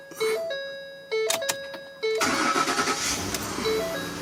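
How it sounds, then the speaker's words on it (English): A 2010 Ford F150 XLT pickup is cranked and fired up just after a power steering pressure hose replacement, with chime tones first, then the starter catching and the engine settling into a loud, close idle. "let's start the car"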